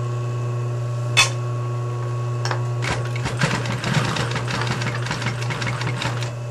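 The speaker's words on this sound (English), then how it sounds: "This is an industrial sewing machine" An industrial sewing machine stitching leather hums steadily with a low motor drone, then rattles into a run of quick stitching clatter after a few isolated clicks.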